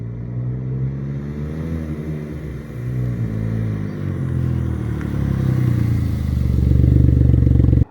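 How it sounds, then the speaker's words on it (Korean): Tuned Kia Morning city car in low gear in an empty parking lot: a deep, close exhaust drone that climbs steadily in pitch and grows louder toward the end, with no talking. "약간 저단으로 한번 으그그그그 하는 배기음을 저 석양과 함께 보여드리겠습니다"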